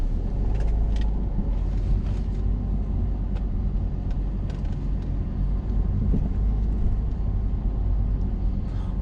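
A car on a driving lesson moves along with a steady engine rumble and road noise, close and continuous from inside the cabin, with a few faint clicks and no talking.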